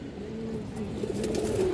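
Indian high flyer Kaldam pigeons in a loft, one giving a low, steady rolling coo close by, with a faint second bird overlapping and some light background noise.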